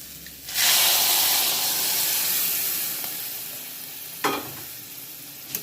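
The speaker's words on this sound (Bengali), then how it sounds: "এই যে কচুটা আমার ভাজা ভাজা হয়ে গেছে" A loud hissing sizzle surges as giant taro (maan kochu) pieces fry in a wok, easing slightly over time, with a couple of sharp scraping stirs.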